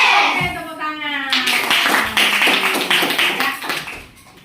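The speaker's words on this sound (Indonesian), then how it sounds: "Oke, tepuk tangan." A class of students claps hands in a classroom, a dense rhythmic burst of many close claps with some voices mixed in, fading toward the end.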